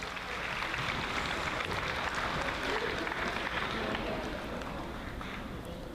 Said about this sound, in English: how about a round of applause for all of our groups here, ladies and gentlemen?